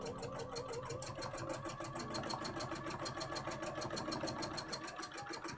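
Close, steady mechanical whirring and rapid ticking run continuously from a sewing machine stitching, faint overall and even in pace from start to finish.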